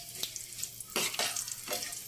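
Oil sizzles and crackles in a hot pan while tempering for mango dal (mamidikaya pappucharu), several bright bursts of frying rising and falling close up, with no talk.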